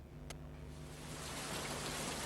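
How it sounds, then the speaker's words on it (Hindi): Heavy rain falls in a dense, steady hiss of raindrops that grows slightly louder over a couple of seconds, with no voices. "तेज बारिश होने पर बूंदों की आवाज़।"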